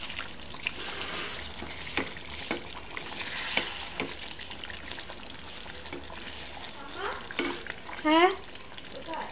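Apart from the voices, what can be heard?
chicken meat being stirred while frying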